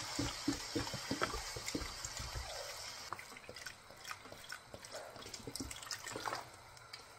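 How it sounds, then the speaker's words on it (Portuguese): Water runs from a tap or pours steadily into a cooking pot of feijoada, about two litres, a continuous splashing, trickling flow heard close with some clatter early on and no talking. "Vou pôr uns 2 litros de água e deixar cozinhar por uma meia hora"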